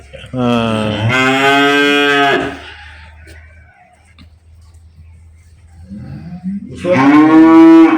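Two long, loud dairy cow moos on a farm, one early and one near the end, separated by a quieter stretch of low background rumble.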